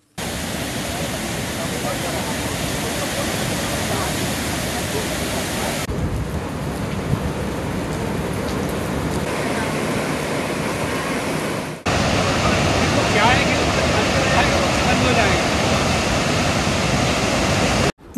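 Torrents of water pour from nineteen opened gates of the Bargi dam on the Narmada near Jabalpur after three days of heavy rain, a loud, steady roar that fills the whole scene without a break.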